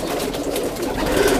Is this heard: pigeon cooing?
yes